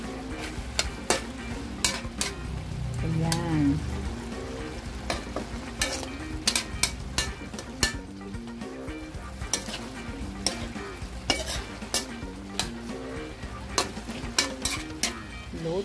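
Pork menudo stirred in a hot pan after celery goes in, a steady sizzle of frying with repeated sharp scrapes and clinks of a utensil against the pan, close and loud throughout, with a brief spoken word.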